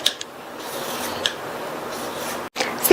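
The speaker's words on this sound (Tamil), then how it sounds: "ஃபர்ஸ்ட் 2 வெள்ளரிக்காயில் உள்ள மேல் தோலை சீவிக்கலாம்" A cucumber's skin is scraped off with a peeler in continuous close rasping strokes, with a few small clicks and a brief break near the end.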